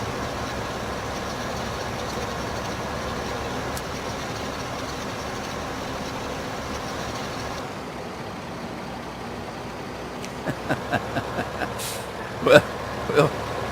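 A tractor engine in Farming Simulator 2015 drones steadily and heavily, then drops away partway through, leaving a quieter stretch broken by a run of sharp clicks and knocks.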